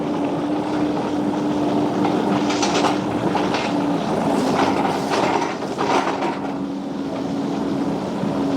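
An 11,000 pound tracked machine rolls over a resin bound surface, giving a steady, loud rumbling drone with a low tonal hum and bursts of clattering track noise throughout, with no talking.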